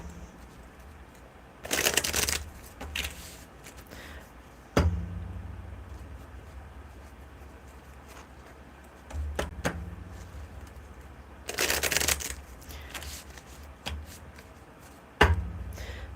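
Tarot cards being shuffled in several brief bursts separated by quiet pauses, with a couple of sharp taps in between; close by, no talking.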